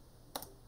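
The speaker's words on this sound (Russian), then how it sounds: "И нажимаем, конечно же, на физической клавиатуре соответствующую клавишу." A single key pressed on a physical computer keyboard during a language-learning exercise, one short, crisp click alone against a quiet background.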